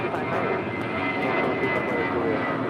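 An airliner takes off from runway 25 right at LAX, a loud, steady roar of engines holding throughout, while air traffic control radio talk runs over it.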